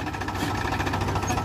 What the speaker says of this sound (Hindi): देखिए स्टार्ट होगा भाई ट्रैक्टर नीचे एकदम डालने से